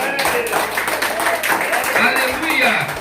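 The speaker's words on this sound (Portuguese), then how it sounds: "Você pode dar uma salva de palmas para Jesus?" A church congregation breaks into sustained applause, a dense, steady wash of many hands clapping together with voices mixed in throughout.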